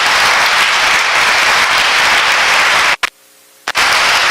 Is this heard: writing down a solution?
no